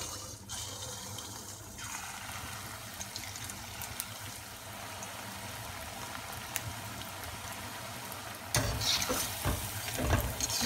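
Spoonfuls of masala paniyaram batter drop into hot oil for Chettinad-style fritters, setting off a steady, close sizzle and bubbling that swells louder near the end as more batter goes in.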